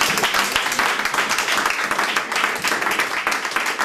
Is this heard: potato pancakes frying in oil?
no